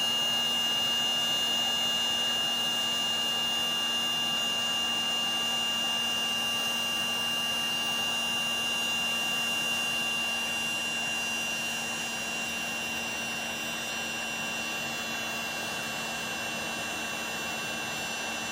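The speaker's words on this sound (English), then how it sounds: "Takes a little bit for this little gun to warm it up." A small handheld heat gun blows steadily on a solder-seal heat shrink tube, a continuous loud whirring hiss with a fixed motor whine, running unbroken and alone close up.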